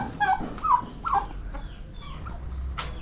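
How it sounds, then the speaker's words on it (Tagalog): Several turkeys gobble and cluck in short, irregular bursts close by, with quiet farmyard background between calls. "Ayan, mga pabo."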